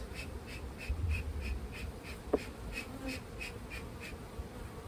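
Honeybees swarm over the frames of an open hive during an urban backyard inspection, their steady, dense buzz humming close and continuous with a single sharp click partway through.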